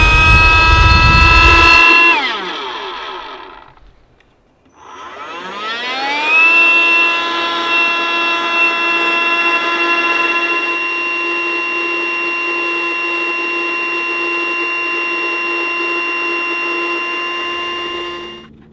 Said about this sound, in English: With this DeWalt compressor, it comes with this hose attachment, and it works perfectly for this valve.